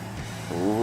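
An Ubermacht Zion XS, a two-wheel-drive car, drifts in GTA 5 Online, its engine droning with tones that climb as the tires begin to squeal near the end of the short burst.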